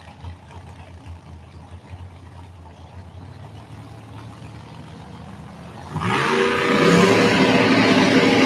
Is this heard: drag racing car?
yes